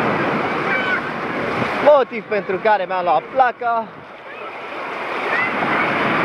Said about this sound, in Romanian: să bage valuri la mare.